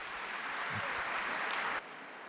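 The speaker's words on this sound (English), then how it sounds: "I had a deflated applause." A short burst of applause from a crowd, steady hissing clapping that drops off abruptly near the end.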